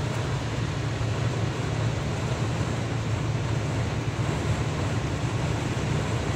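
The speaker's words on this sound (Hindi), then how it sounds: "तेज़ हवा चल रही है बहुत ज़्यादा और सारी रेत तोड़ के रोड के ऊपर आ रही है" Strong wind blowing sand across a road in Saudi Arabia, a steady loud roar with rumbling buffeting and no pauses, heard without talk.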